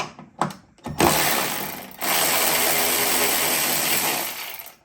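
A ratchet loosens coilover bolts on a Porsche 944: a few short clicking bursts, then one long, steady, loud ratcheting run close by.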